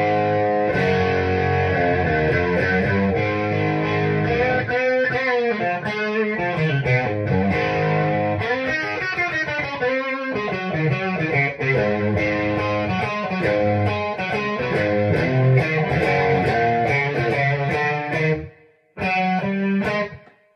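Electric guitar played through a Vox Valvetronix VT40X 10-inch 40-watt combo amp on its User B preset, a loud, continuous run of chords and notes with effects-laden tone, ending in a brief pause and a short final burst.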